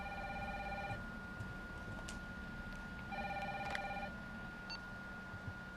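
A telephone rings in Resident Evil 3, two bursts of electronic bell tone separated by a pause, fairly quiet over a low game ambience with faint clicks, no speech.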